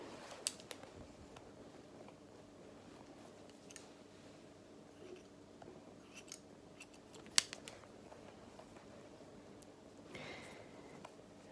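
Scissors snipping hair close to the ear during a short graduated haircut, with sparse quiet cuts spread across a soft room hiss and a few sharper clicks.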